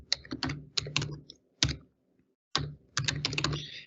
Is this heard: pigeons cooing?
no